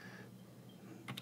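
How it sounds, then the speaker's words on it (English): A few quick, faint keystrokes on a computer keyboard at the very end of a short quiet stretch, entering a search on a Windows Server 2016 machine. "So we can go to the search box, type in remote"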